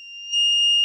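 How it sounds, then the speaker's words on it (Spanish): A small electronic buzzer wired to a variable resistor sounds a steady, piercing high-pitched tone that grows louder as the current rises, alone and close. "Hemos conectado la corriente a un zumbador."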